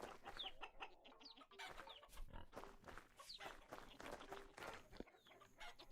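A rooster in the Vintage Story survival game, played with mods, clucks repeatedly in short, faint bursts over a low background with no talking.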